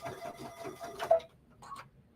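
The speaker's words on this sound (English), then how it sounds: "I'm going to go like on a slowish speed and just do the button thing." A sewing machine with no presser foot fitted stitches a button at slow speed, making a short run of close, rhythmic mechanical thumps that stops, followed by a brief faint whir.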